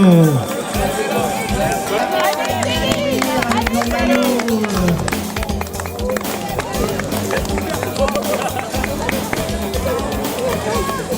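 Crowd clapping and cheering at the finish line of a vétathlon race in Ploufragan as the youngest runners come in, scattered applause under an announcer's voice with lively background music and chatter.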